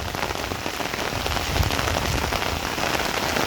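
Steady rain pattering on a surface, a dense, even hiss of drops continuing throughout with no voices.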